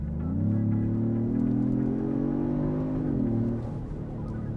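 A 2025 Genesis GV80 Coupe twin-turbo SUV accelerates hard, its engine note climbing in a steady drone from inside the cabin before easing off near the end, with no talking over it.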